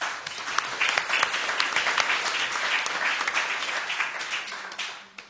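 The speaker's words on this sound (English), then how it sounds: "If we just give him a quick round of applause." A panel audience at a talk about opera gives a guest speaker a quick round of applause, a steady dense wash of many hands clapping that tapers off at the end.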